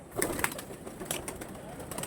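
Soft pigeon coos and a few fluttering sounds, fairly faint, against a quiet outdoor background.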